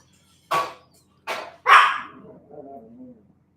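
A few separate dog barks ring out, the last one trailing into a soft whine, with quiet around them.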